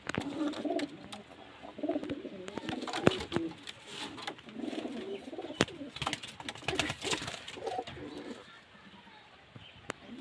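Pigeons coo repeatedly in low, rolling murmurs, close by, with scattered sharp clicks and rustles in between.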